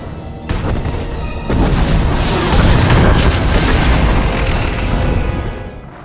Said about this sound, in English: That explosion was something called the Shadow Arsenal.